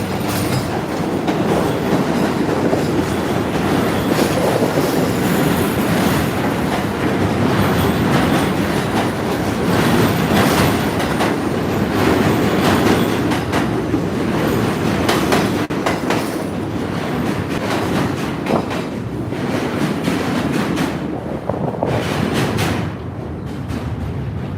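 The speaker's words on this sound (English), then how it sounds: "There's a train coming up behind me now." A train rumbles past on the New York City walk between Manhattan Chinatown and DUMBO, Brooklyn, a loud sustained roar with clattering wheels and metallic squeals that thins out near the end, and no talking.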